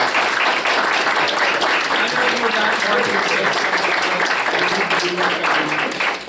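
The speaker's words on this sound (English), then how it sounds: "I think you deserve a round of applause" A borough council meeting room fills with thick, continuous applause from the attendees, loud and even throughout, with a few voices murmuring faintly underneath.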